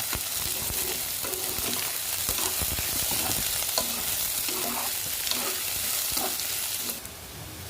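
Chopped onion fries and sizzles in cooking oil with mustard in a pan on a lit stove, stirred with steady scraping strokes at close range throughout, no voices present.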